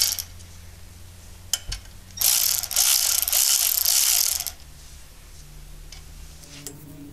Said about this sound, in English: Now you just want to be gradually tightening them in a star pattern.